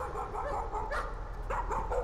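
A dog barks in the horror video game Layers of Fear, a few short barks and yips coming through a steady low hum at moderate loudness.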